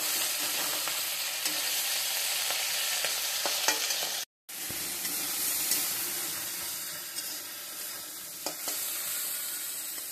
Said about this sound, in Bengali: আমি চিংড়ি মাছটাও ভেজে নেব